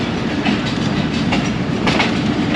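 Ravi Express rolling along a classic branch line near Shorkot Cantt Junction in Pakistan, a steady close rumble with rhythmic wheel clatter and no voices.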